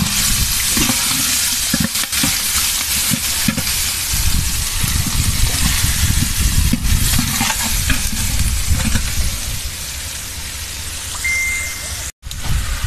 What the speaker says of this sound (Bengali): পেঁয়াজ মরিচ সব ঢেলে দেওয়া হলো।